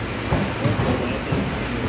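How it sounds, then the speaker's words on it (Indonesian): Heavy rain pours steadily outdoors near a stall selling es cincau, a dense, continuous hiss of falling water that stays loud and even throughout, with faint low rumbles mixed in. "Hujan deras."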